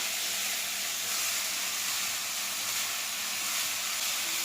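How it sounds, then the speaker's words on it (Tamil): Mixed vegetables sautéing in a pan with spice powder for a vegetarian lasagna, producing a loud, continuous steamy hiss and sizzle heard close up and uninterrupted throughout. "வெஜிடபிள்ஸ் பார்த்தீங்கன்னா ஒரு 5 மினிட்ஸ் வதங்கினா போதும், ரொம்ப வதக்க வேணாம்"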